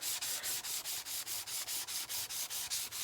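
Abrasive paste rubbed by hand over tarnished aluminium fork legs from a Honda CL350, a steady back-and-forth scrubbing with about fifteen even strokes, close and continuous with no talking.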